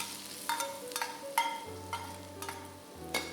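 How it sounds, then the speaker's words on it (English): Ginger and garlic stir-fried in hot oil: a low sizzle with a few separate sharp scrapes and knocks of a utensil against the pan, close by, with no one speaking. "Stir fry these till they are fragrant"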